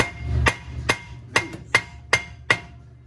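Six sharp metallic hammer blows strike the back of motorcycle brake rotors on a CL500, evenly spaced about half a second apart, close and loud with a short ring after each hit, no talking.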